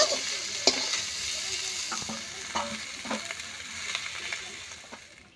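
Small pond prawns fry in oil with a constant close sizzle broken by scattered spatula scrapes and clicks, fading away at the very end.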